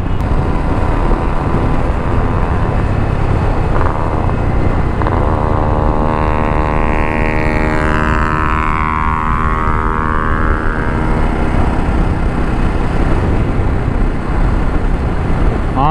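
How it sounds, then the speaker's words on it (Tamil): A Yamaha RX two-stroke motorcycle engine on a road near Channapatna drones loud and close throughout, its buzzing tone sliding in pitch midway as it revs or passes by. "ஆர்எக் சவுண்டு தான் லெஜெண்ட்ரி. Two stroke sound."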